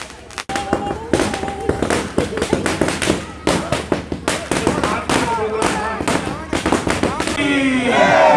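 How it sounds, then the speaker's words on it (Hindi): Fireworks and firecrackers going off in a neighbourhood celebration at the start of road construction, a rapid irregular barrage of sharp cracks and bangs, some close and loud, with crowd voices mixed in underneath. "आतिशबाजी शुरू हो चुकी है, मोहल्ले वासी आतिशबाजी का जश्न मना रहे हैं।"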